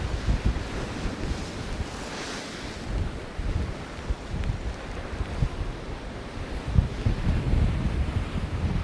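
Strong wind buffeting the microphone on the Scottish coast, a loud continuous roar with gusts and low rumbling, surf noise underneath, no voices.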